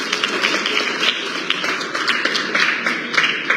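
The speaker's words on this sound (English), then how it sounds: "Round of applause for him, please." Applause at a book launch for a guest from India, a close, moderately loud patter of clapping hands with uneven rhythm from a smallish crowd, continuing steadily throughout.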